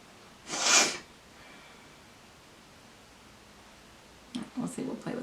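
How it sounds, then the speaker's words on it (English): A single sharp, breathy sniffle or snort through the nose, loud and close, comes during a makeup get-ready session. Quiet follows, and then a person starts talking. "I know I sniffle in every video, I apologize"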